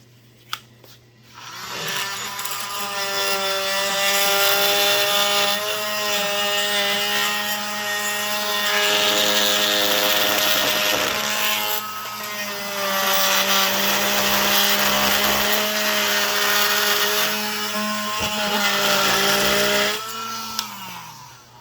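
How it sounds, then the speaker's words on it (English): Fine-toothed saw cutting all the way around a wooden corbel, giving a loud, steady grinding buzz that runs nearly continuously for about twenty seconds with brief dips between passes. "I'm going to use my fine saw to go ahead and make a cut all the way around it and pop it off."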